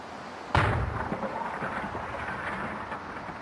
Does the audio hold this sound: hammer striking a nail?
no